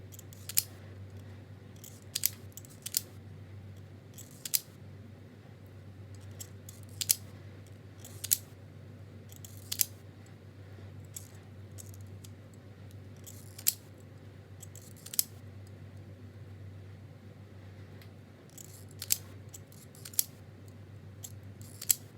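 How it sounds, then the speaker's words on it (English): Scissors snip through thin connector wires for an Arduino project, a series of sharp, close, isolated clicks spaced irregularly over a low steady hum. "So just cut the top wires and I'm going to strip all the bottom wires."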